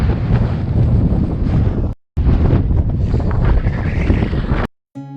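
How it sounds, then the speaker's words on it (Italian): Strong wind in the Gobi desert buffets the microphone in loud, roaring gusts, cut by two brief gaps of near silence. "è una lotta strenua contro il vento"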